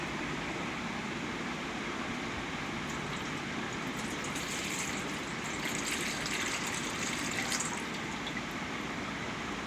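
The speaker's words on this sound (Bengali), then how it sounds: "ডাবের পানিটা ছেঁকে নিলাম" Water from a freshly cracked, very tender green coconut runs through a strainer in a soft, continuous trickling stream that holds steady throughout, with no voices.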